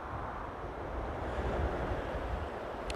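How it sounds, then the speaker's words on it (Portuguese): Wind on a mountaintop buffets the microphone as a low, rumbling roar that swells slightly, heard alone for three seconds. "Olhem o vento, hóstia, que está a vir agora."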